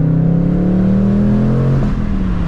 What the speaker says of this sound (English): Hear that pop? Sounds good.